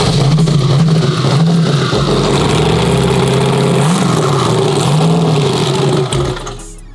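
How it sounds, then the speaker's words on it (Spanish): A Chevrolet Silverado truck with a single-turbo engine runs loud and close, its steady drone rising and falling in pitch as it revs, then dies away at the very end. "Nomás que le suban el RPM"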